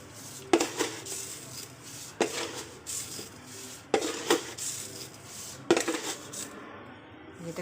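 Heaped spoonfuls of sugar tipped into a pot of milk for sheer khurma, four separate close clinks of a metal spoon against the pan rim, each followed by a soft granular scrape, with quiet kitchen background between.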